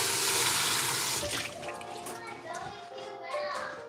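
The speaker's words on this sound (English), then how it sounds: "I'm going to rinse my fingers off" Tap water running into a kitchen sink while fingers are rinsed, a loud close gush at first that cuts off, followed by softer handling sounds and voices talking.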